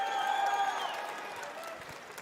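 An audience at Summer Game Fest applauds, a broad wash of clapping from a large crowd that gradually fades, with faint musical tones and a murmur of voices underneath.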